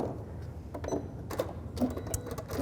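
A sewing machine stitching a fabric pouch at a craft session, a steady mechanical whirring clatter with intermittent needle clicks and small knocks, fairly close.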